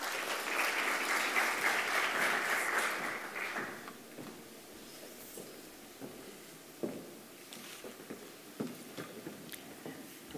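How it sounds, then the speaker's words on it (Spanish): An audience at an academic forum on the Orinoquía region applauds to welcome a university economist. The clapping starts loud and dense, then fades after a few seconds into scattered claps and small shuffling sounds. "Un caluroso aplauso de bienvenida para la doctora Ibáñez."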